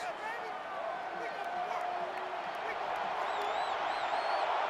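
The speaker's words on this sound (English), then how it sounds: "It's arguably the loudest crowd in the nation, and they are turning it up a notch." Loud stadium crowd roaring at a college football game in NCAA 14, Texas at Florida, a continuous dense roar with whoops and whistles rising near the end.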